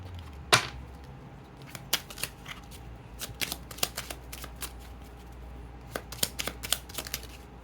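Tarot cards are shuffled and handled near the microphone in an almost continuous run of crisp flicks, riffles and small taps, with a brief sharp snap near the start, against a low steady background hum and no voices.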